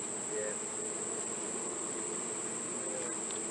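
A dense, steady buzzing of many bees inside a hive, continuous and close, with a constant high whine running through it.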